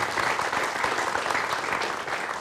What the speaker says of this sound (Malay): Kita berikan tepukan kepada Datuk Seri